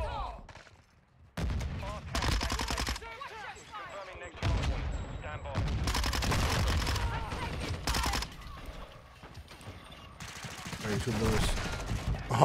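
Grenade blasts and rapid gunfire fill a Modern Warfare II match, several loud bursts of automatic fire and explosions in quick succession with short gaps between them.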